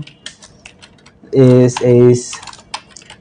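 Light clicks of a computer keyboard as a business name is typed, scattered taps spread across the clip, interrupted by a spoken voice in the middle.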